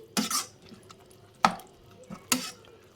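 A wheat flour and milk mixture for a mushroom sandwich is stirred in a pan, giving three distinct scraping strokes separated by short pauses, close and moderately loud.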